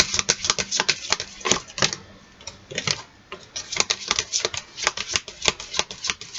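Tarot cards being shuffled by hand, close and fairly quiet, with a run of crisp riffling flicks and taps that pause briefly midway before resuming.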